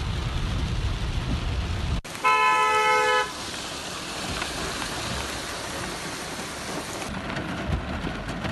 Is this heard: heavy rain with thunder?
yes